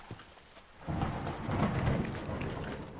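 Thunder rumbles during a rainstorm in the Minecraft TerraFirmaCraft modpack, a low rolling boom that swells in after a quiet moment and stays fairly faint under steady rain hiss.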